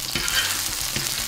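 Fish frying in hot oil in a pan, a dense close crackling sizzle with a few soft scraping stirs, short and steady, no voices.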